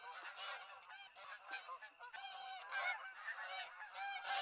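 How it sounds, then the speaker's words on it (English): Geese honking in the hunting game TheHunter: Call of the Wild, a dense flock calling continuously with overlapping nasal honks, steady and fairly close, with no talk over it. "I do hear geese,"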